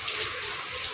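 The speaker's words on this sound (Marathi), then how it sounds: "पाऊस पडते बघ" Light rain falling, a soft continuous patter of drops on nearby surfaces, with one brief sharper tap near the start.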